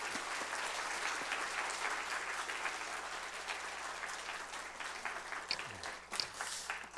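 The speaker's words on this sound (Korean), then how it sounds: "나오실 때 우리 뜨거운 박수로 환영하겠습니다" A church congregation at a Friday worship service applauds warmly to welcome a guest preacher, with sustained dense clapping filling the room steadily throughout at moderate loudness.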